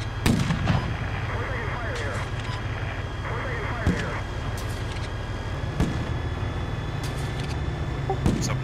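Artillery and gunfire boom through a video game battle, with sharp isolated shots and heavy thuds scattered over a steady rumbling bed while voices talk throughout.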